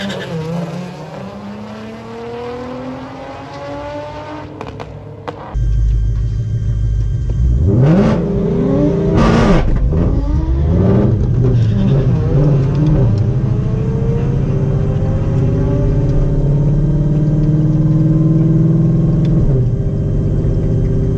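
A 2020 Shelby GT500 on a drag strip during a test and tune pass, its engine idling, then a sudden loud revving launch with tire squeal and repeated rising and falling engine pitch as it struggles to pull away.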